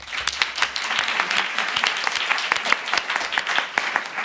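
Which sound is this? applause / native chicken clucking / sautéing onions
applause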